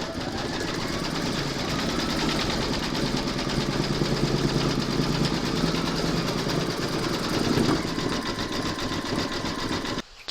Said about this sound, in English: We're now going to stitch round number 6, and that's going to zigzag the raw edges.